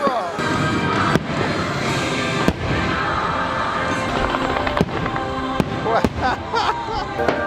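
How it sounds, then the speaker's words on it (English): Fireworks going off at Disney's Fantasyland near Dumbo, a dense run of booms and sharp cracks at irregular intervals over a crowd murmur, with a person talking throughout. "Making my way to the circus now as we see more fireworks going off there and here."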